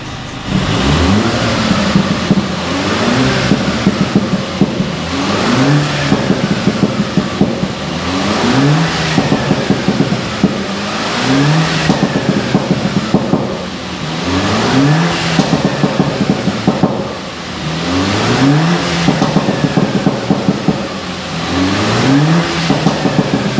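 A Mini Cooper S engine revved repeatedly in rising and falling cycles, loud and close, with the exhaust note swelling on each throttle blip and sharp pops and crackles scattered between the revs.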